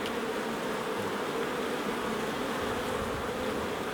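Honey bees swarm around a beehive frame outdoors on a sunny day, producing a dense, steady buzz that stays close and unbroken throughout, with no voices.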